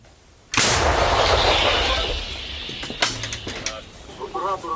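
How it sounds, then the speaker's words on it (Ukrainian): A loud artillery gun fires a single heavy shot, a sharp blast followed by a long rumbling roar that slowly fades, with faint clattering afterward. "Постріл."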